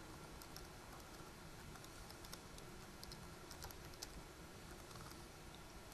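Password being typed on a computer keyboard at a server during a SQL Server 2014 demonstration, light irregular key clicks scattered over a steady background hum, faint and continuous with no voices.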